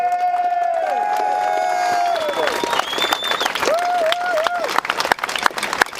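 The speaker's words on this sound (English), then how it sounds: "Give yourselves a big round of applause, guys" Crowd of people applauding and cheering outdoors, with steady clapping, whoops and whistles that build into a dense, loud roar for several seconds, with voices mixed into the noise.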